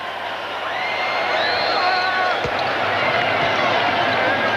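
A basketball arena crowd at a 2002 World Championship playoff game between New Zealand and Germany keeps up a steady, broad roar of cheering and whistles throughout, with commentary voices running over it.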